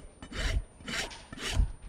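A rasp trims a horse's rear left hoof in three slow, even rasping strokes, close and clear with no talking.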